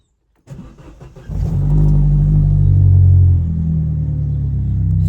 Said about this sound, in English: we're going to just turn the key and we're going to start the car